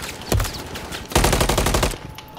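Rapid automatic gunfire in the shooter game Call of Duty: Modern Warfare III: a sharp opening shot, a pause, then a fast, loud burst of closely spaced shots lasting nearly a second before fading into quieter background noise.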